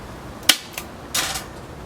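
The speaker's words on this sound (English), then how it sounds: "Go ahead and finish stapling the bottom." A staple gun fires into the mount of a staghorn fern being remounted, three sharp snapping clacks spaced irregularly, close and fairly loud over quiet outdoor background.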